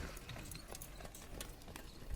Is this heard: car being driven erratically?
no